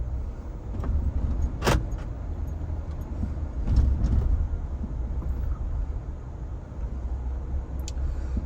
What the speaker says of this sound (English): So now we'll take a drive around the neighborhood and show you the neighborhood.